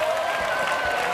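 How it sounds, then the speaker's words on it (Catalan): A studio audience on a TV game show breaks into applause, a brief, steady burst of clapping heard fairly faintly. "Escolta, quina ovació"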